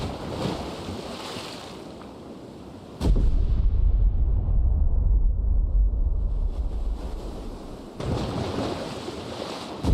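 Depth charges burst in the Destroyer: U-Boat Hunter naval game, giving two heavy muffled booms with a long rumbling swell between them over wind and sea noise.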